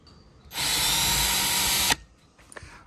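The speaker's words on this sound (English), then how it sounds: "in order to drill that hole in the center by this location on the wall" A power drill whirs steadily for about a second and a half, drilling a hole in a wall, then cuts off abruptly, followed by faint handling noises.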